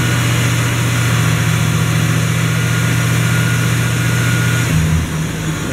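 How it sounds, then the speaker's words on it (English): A car engine idles loudly and steadily with a strong low hum, then the tone shifts near the end as the AC's secondary cooling fan cycles on during a refrigerant pressure and condenser check. "if you rev it up, you'll hear that fan kick on"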